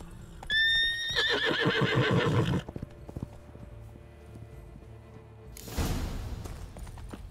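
A horse in The Witcher 3 whinnies loudly and close with a rising, wavering call, followed by heavy stamping and a rustling snort, over a quiet game background.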